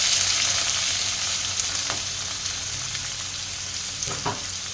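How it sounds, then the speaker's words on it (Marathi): Finely chopped onion and cumin seeds sizzle steadily in a hot pan on a gas stove, a continuous close frying hiss with a few faint stirring scrapes and no voices. "सो थोडंसं मी ॲड करणार आहे हे जिरा. त्याच्यानंतर बारीक चॉप केलेला कांदा,"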